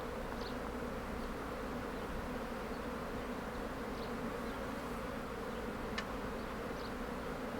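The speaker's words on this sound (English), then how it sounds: "Must be honeybees." Steady, dense buzzing of many bees, a constant drone with occasional louder passes close by, and no voices.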